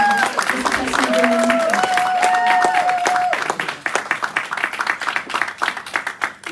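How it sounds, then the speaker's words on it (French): Applause at a diploma ceremony in Nice, clapping from an audience that starts dense and steady, then thins into scattered claps as it fades, with a held musical tone playing underneath at first. "Oui, on l'applaudit."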